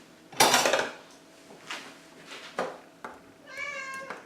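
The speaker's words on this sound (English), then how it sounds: "Both cats think they're about to get fed." Two cats meow in a kitchen as a tin of burgers in onion gravy is prised open, a few short calls scattered over a loud metallic opening clank, with one clear rising meow near the end.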